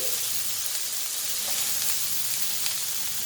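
Lamb patties sizzle in a frying pan just after being flipped to cook the other side, a loud, steady, close hiss of frying fat with a few faint clicks and no talking.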